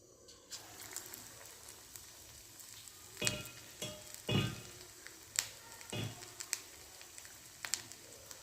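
Cauliflower bhajji deep-frying in hot oil makes a soft, steady sizzle broken by sharp scattered crackles and pops of varying loudness.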